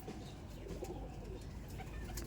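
Rampuri Golden pigeons, a breeding pair, coo softly and continuously in a loft, a low murmuring drone with a faint higher chirp above it and no talking.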